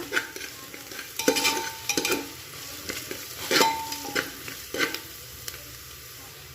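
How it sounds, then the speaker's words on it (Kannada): Ground spice masala frying in a pan for an oyster mushroom curry, with a steady sizzle and intermittent stirring scrapes and spoon clinks against the pan, close and moderately loud, with no talking. "ಈಗ ಇದಕ್ಕೆ ಸ್ವಲ್ಪ ಕೆಂಪಾದ್ಮೇಲೆ ಮಿಕ್ಸಿ ಮಾಡಿದಂತಹ ಮಸಾಲೆಗಳನ್ನು ಹಾಕೊಂಡು 1-2 ನಿಮಿಷ ಫ್ರೈ ಮಾಡೋಣ"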